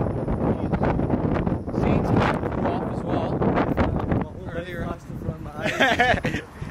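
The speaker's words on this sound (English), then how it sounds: "This is how windy it is." Strong wind buffets the microphone in loud, gusty bursts while a person talks throughout, their voice partly drowned by the roar.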